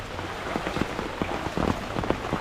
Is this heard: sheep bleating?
no